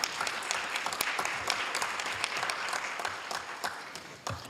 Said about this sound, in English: Let's give Ms. Baines a big round of applause as she walks down.